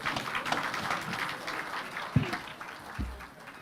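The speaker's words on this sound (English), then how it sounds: "let us give the two party leaders a hand of applause" Attendees at a Kenyan UDA political gathering with the President and Prime Minister applaud the party leaders, a moderate, scattered clapping that fades toward the end, with a couple of thumps near the mic.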